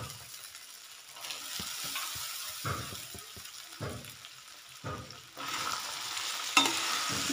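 Soaked sabudana stirred in a pan, a series of soft scraping and clicking strokes at an uneven rhythm, quiet and close, growing into a louder sizzle toward the end.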